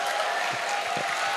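Audience clapping at a Lenten talk for young people, a brief patch of steady applause from a seated crowd, moderately loud and continuous.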